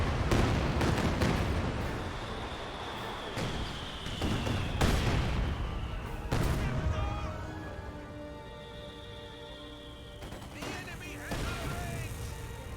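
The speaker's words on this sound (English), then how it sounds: "Barrage now running on in." Artillery barrage in Company of Heroes 2: a rapid series of loud booming impacts and crashes, with whistling incoming shells between the blasts, continuing through the clip under a voice talking.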